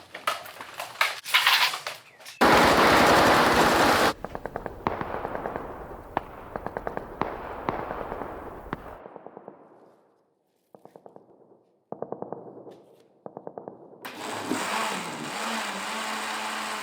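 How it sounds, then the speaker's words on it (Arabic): Gunfire near a house in a dramatic scene: rapid bursts of sharp cracks in dense clusters, then sparser shots after a pause, followed by a rising noise. "صوت رصاص جاي من صوب بيت شيخ"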